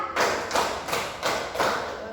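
Schoolchildren in a classroom clap in unison during a counted clap game, five evenly spaced, thudding group claps in a steady rhythm, with voices faintly chanting beneath them.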